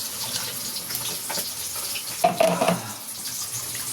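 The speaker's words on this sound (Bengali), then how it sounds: "চালটাকে ধুয়ে নিই ভালো করে।" Rice being rinsed under a running kitchen tap, with a steady close flow of water and a brief louder splash and swish as hands work the grains, no speech.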